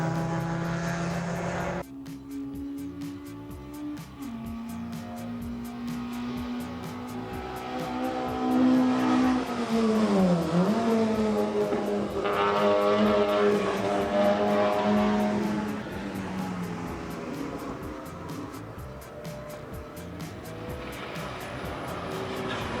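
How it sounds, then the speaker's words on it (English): Mazda RX-7 race car engine at a New Zealand circuit, loud and close, revving up under boost with a rising whine and a brief dip around a gear change, then holding a steady high drone with other cars sounding in the mix. "Glenn in the RX-7 finally turns up the boost and makes a move."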